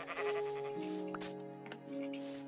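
A possessed sheep in Minecraft gives a few wavering, nasal bleats that sit close and loud over a steady, slightly distorted game tone, with no talking.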